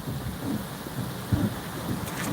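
Gusty wind and heavy rain from Hurricane Beryl's bands at Port O'Connor, Texas, roar steadily outdoors with buffeting microphone rumble and a brief louder gust.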